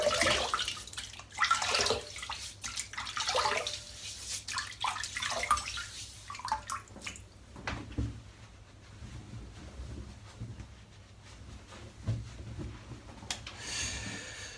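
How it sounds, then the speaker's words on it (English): Running water splashes and trickles as a head is wetted before shaving, a continuous close wash with shifting splashes, drips and a few snorting breaths, fairly quiet and steady throughout without talk. "Right, let's wet the head."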